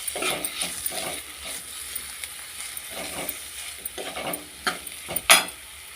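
Carrot curry with ginger garlic paste frying in a pan, a soft steady sizzle broken by repeated scraping stirs of a spoon, ending in a sharper clatter near the close.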